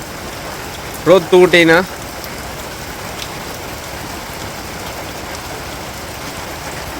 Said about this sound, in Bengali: প্রচুর বৃষ্টি হইতেছে এখন